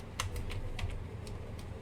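Computer keyboard typing while entering a command, a handful of light, separate key clicks at an uneven pace over a low steady background hum.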